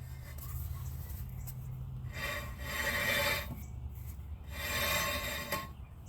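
Brake rotor grinding against the steering knuckle on a car, heard as two long raspy scraping rubs in a repeating rhythm, close and moderately loud over a low background hum.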